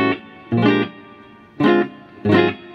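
An electric guitar, a Valentine chambered model, played through a Prussian Blue reverb pedal: four loud strummed chords in an uneven rhythm, each ringing out in a reverb tail under the next, with no talk.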